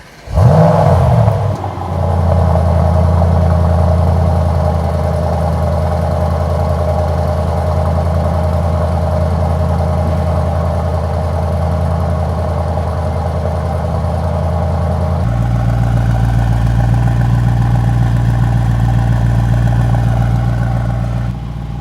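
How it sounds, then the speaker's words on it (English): A 2021 Mercedes-AMG E63 S sedan's V8 cold start: a brief cranking burst and sharp rev, then a loud, steady high idle that settles and drops lower near the end. "Now we can listen to the cold start of this car."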